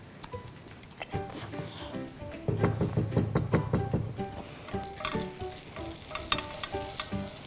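A leek and pumpkin omelette mixture for a baby's breakfast is poured into a hot pan and sizzles, with a sudden burst of frying hiss, spoon knocks and stirring clatter, close and fairly loud.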